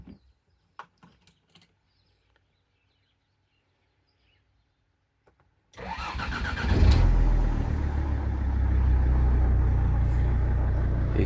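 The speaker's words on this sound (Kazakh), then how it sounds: "Машина 5 ай турду, бирок сразу эле жүрөт." A Sprinter van that had stood unused for five months starts up after several seconds of near silence and faint clicks, then settles into a loud, steady idle close by.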